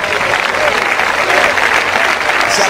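A church congregation applauds steadily, a dense and continuous clapping from a crowd that holds at an even level throughout.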